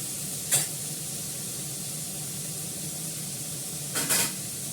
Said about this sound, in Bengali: একটা শুকনো লঙ্কা ফোড়ন দিয়েছি, কালো জিরে দিয়েছি, দুটো কাঁচা লঙ্কা ভেঙে দিয়েছি।